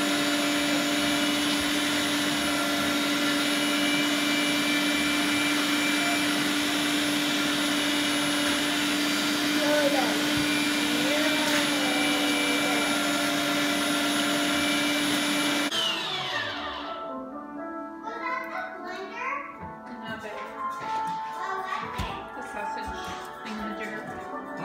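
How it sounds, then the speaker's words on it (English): A sausage-stuffing machine forces homemade chorizo meat into casing, giving a loud, steady motor drone with a high whine for about fifteen seconds before it drops to quieter mechanical handling and rustling. "we're going to get to putting this through this this machine and make some sausage"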